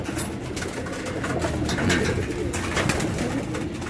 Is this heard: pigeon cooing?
yes